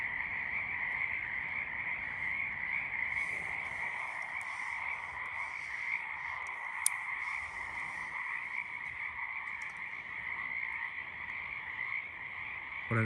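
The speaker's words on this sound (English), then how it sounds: "And here we have found our very first Pacific chorus frog, Hyla regilla." Pacific chorus frogs (Hyla regilla) croak at night in a dense, continuous chorus that stays loud and even throughout, with no voices.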